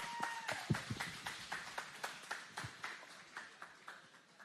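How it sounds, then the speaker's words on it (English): Audience applause welcoming a panel at WalletCon 2024: a steady run of distinct, fairly close hand claps that slowly thins and fades, with no talking over it. "Round of applause for our next panel."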